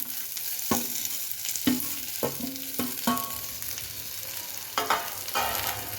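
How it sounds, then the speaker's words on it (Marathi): Potato slices fry in a pan with a steady sizzle while a spoon or spatula stirs them, producing several distinct scraping knocks spaced irregularly throughout. "आता छान असे हलवायचे"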